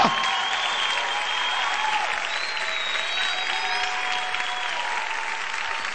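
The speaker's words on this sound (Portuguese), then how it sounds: "Tudo doido por Jesus, aplaude aí, caramba!" Sustained crowd applause at a church youth service, dense and loud, with cheering voices and whistles rising over the steady clapping throughout.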